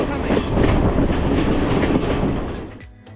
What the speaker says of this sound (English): The train rolls through jungles and villages as it makes its way up the hill.